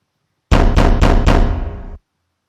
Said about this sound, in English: the monster banged on the door, trying to shred it apart